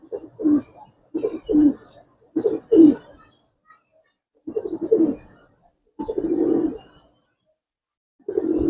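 Giribaz pigeons coo in a series of soft, throaty bursts, several short pulses followed by a few longer rolling coos with brief pauses between them, close by and alone without talk.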